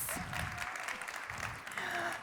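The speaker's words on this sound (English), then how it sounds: "I swear this is the last time I ask for a round of applause" Applause from the audience at a startup pitch competition final, a brief, fairly quiet burst of many hands clapping with some crowd murmur underneath.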